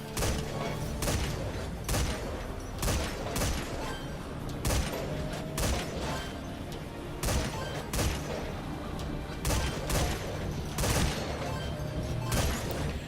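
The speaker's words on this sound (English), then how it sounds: "And there's the damn grenade launchers." Grenade launchers fire in the video game Metal Gear Survive, with repeated sharp explosive bursts at irregular intervals over a steady background of game noise.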